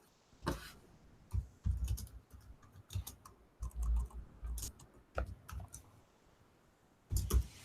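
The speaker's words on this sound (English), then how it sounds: "I'm gonna work on typing the first question" A computer keyboard being typed on in irregular bursts of close, crisp key clicks and heavier thumps, with no talking.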